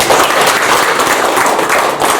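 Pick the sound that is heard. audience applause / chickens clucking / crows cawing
audience applause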